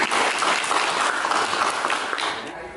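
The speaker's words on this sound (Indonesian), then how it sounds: "tepuk tangan untuk kawan kita" Schoolchildren in a classroom applaud a classmate, a dense burst of clapping that starts strong and gradually tapers off over a few seconds, with no talk over it.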